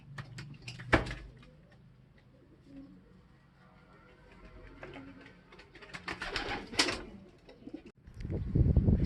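Racing pigeons return to the loft during a second-lap derby, with soft cooing and wing flaps, scattered thumps and a door sliding, under intermittent nearby talk.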